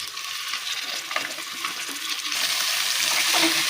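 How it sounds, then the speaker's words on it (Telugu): Goat head curry meat with turmeric in a pressure cooker is stirred, a close, wet, hissy sizzle with scraping and squelching that grows a little louder toward the end. "మనం వేసుకున్న కూరని మంచిగా పసుపు అంతా కలిసేటట్టుగా మంచిగా ఒకసారి కలుపుకోవాలి"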